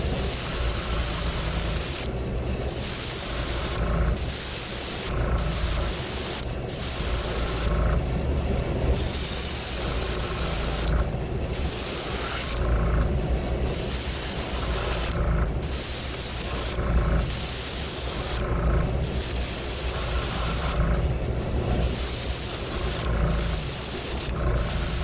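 An airbrush sprays brown paint at very light pressure onto a crawfish-pattern fishing lure, giving a steady airy hiss broken by frequent short pauses and restarts, close up with no talking.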